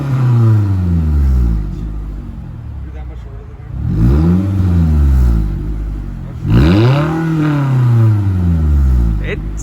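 A Scion tC with a newly fitted exhaust revs repeatedly, its deep, throaty engine note rising and falling in three loud sweeps close by.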